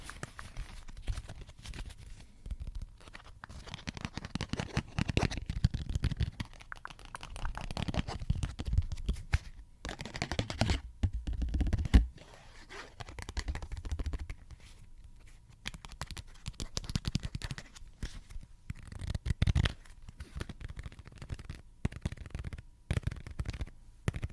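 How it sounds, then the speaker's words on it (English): Playing cards being sorted and shuffled close to a sensitive mic, soft papery flicks, slides and riffles coming in irregular bursts, with faint shuffling and handling noise between them. "Just sorting through the cards."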